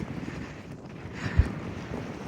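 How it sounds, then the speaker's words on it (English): Strong wind blowing outdoors, a steady low, gusty rumble of microphone buffeting with one brief thump partway through. "It is super windy today"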